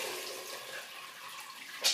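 Water pours from a pot through a strainer with a steady, close splashing rush that stays even and ends in a brief louder gush.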